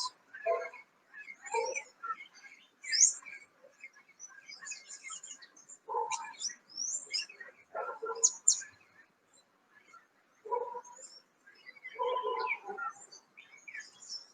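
Parrots calling outdoors, a series of loud squawks and chirps in short bursts separated by brief pauses, close and clear, with no talking.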